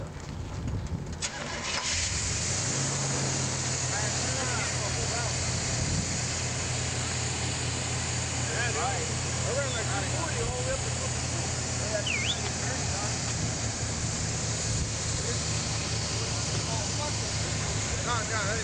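A car engine runs steadily with a low hum and broadband rumble, the clutch engaging as the drive settles into a constant tone; a loud, continuous cabin-like noise with voices faintly under it.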